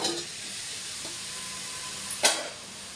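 Cut drumstick pieces and curry leaves drop into hot oil for an egg curry, giving a steady soft hiss with one sharp burst of spitting sizzle near the end, no talking.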